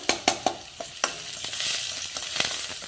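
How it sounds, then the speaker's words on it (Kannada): Ginger garlic paste frying in oil in a pan for tomato sambar, with a few sharp spatula taps at the start and then a steady, close sizzle and stirring. No voices. "ಇವಾಗ ಗೋಲ್ಡನ್ ಕಲರ್ ಬರೋವರೆಗೂ ಸ್ವಲ್ಪ ಫ್ರೈ ಆಗಲಿ."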